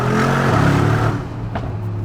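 A Mercedes G63 Brabus engine roars loudly as it accelerates, a deep droning growl that swells, then eases back to a lower rumble inside the cabin.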